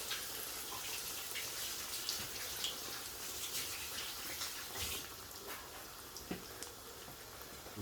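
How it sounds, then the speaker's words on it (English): Tap water runs over hands rinsing at a kitchen sink, a continuous splashing hiss with small irregular drips and knocks, moderately close, with no voices. "Rinsing off my hands."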